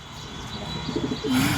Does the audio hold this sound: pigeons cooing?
yes